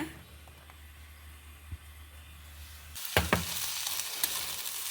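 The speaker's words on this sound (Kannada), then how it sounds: "ನೀರುಳ್ಳಿ ಒಂಚೂರು ಫ್ರೈ ಮಾಡಿ ಇಟ್ಕೊಂಬ" Onions fry in oil in a pan for a green peas kurma, first a faint low hiss, then a louder sizzle with stirring scrapes that starts about three seconds in and holds steady nearby.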